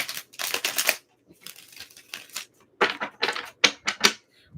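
Tarot cards being shuffled in quick bursts of crisp riffling and slapping, close and fairly quiet, with short pauses between each run of shuffling and no talking.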